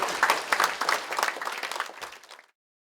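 A short burst of warm audience applause at a Korean Christian leaders' council 40th anniversary thanksgiving service in a hotel hall, clapping fading out after about two and a half seconds.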